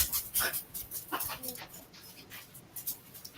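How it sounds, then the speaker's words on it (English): A dog whimpers and whines in short revving, engine-like bursts, close and uneven, with light rain and faint voices in the background. "I hear a dog pretending to be a IndyCar."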